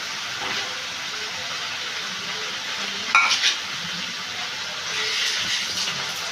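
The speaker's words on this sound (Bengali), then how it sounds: "আমি আলুর সাথে মশলাটাকে ভালো করে কষিয়ে নিচ্ছি।" Fried potatoes being stirred with spices in a pan for egg biryani, a steady sizzling hiss throughout with a brief louder scrape of the spoon near the middle.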